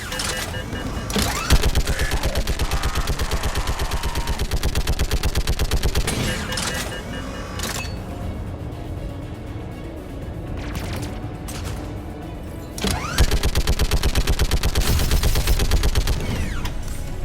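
A gun turret in Mass Effect 3 fires in long, rapid, loud bursts of automatic gunfire with brief pauses, set against a battle soundscape, with voices occasionally speaking in between.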